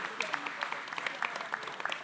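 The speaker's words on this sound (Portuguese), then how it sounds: "uma salva de palmas para esse momento tão importante" An audience at a panel on women's political participation gives a round of applause, a light, brisk patter of many hands, moderately distant and steady, with some voices mixed in.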